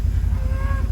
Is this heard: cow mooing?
yes